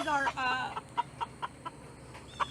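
A white Plymouth Rock rooster handled on a homestead clucks near the microphone, a short burst of calls followed by a string of quieter, evenly spaced clucks.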